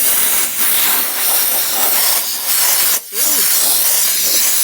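Compressed air blasts dust out of a very dirty PC as loud, close, continuous hissing bursts with a short pause midway, and a person briefly exclaims.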